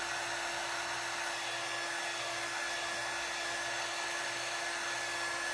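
A dryer blows steadily on freshly painted wood of a decorated floral flag door, producing a constant airy whir with a fixed motor hum and no pauses.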